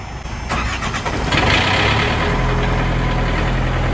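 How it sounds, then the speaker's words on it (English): A truck's diesel engine cranks briefly and then catches, settling into a loud, steady, rumbling idle close by with no talking. "Okay, diesel engine starting."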